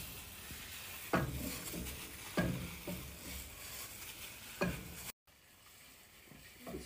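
Meat goes into a pan already seasoned with salt, mitmita and korerima, giving a quiet, steady sizzle broken by several sharp clacks of stirring and a brief dropout near the end.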